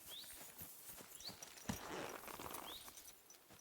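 Horse hooves clip-clopping at a steady walking pace in the Kingdom Come: Deliverance 2 video game, soft and moderately close, with faint chirps above and a brief thump midway.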